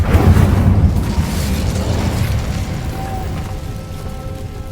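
The Incendio fire spell bursts in the video game Hogwarts Legacy, a loud, deep whooshing roar at the start that slowly fades into a softer crackling rumble.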